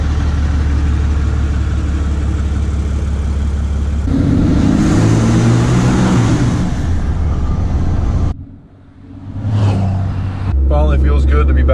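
A Ram Cummins diesel pickup truck drives along a road with a steady engine drone and tire rumble, a person talking over it, then the noise dips and returns.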